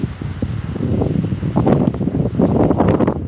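Wind blowing across the microphone in steady, buffeting gusts that swell and ease, a rough low rumble with no speech over it.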